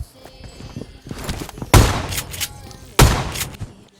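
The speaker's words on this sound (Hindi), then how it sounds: "शॉटगन उठाता हूँ, सीधा बजा देता हूँ उसकी भी" Two heavy, close shotgun blasts ring out in the mobile battle royale BGMI, each a sharp boom with a decaying tail, about a second apart, after lighter gunfire and game sounds.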